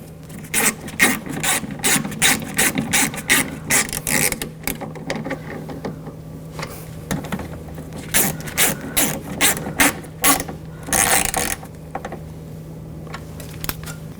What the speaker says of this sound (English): Tighten these down.